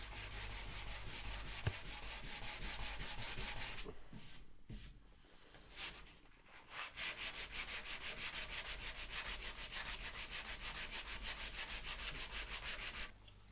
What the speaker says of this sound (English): I can take it out of the clamps and give it a final light sanding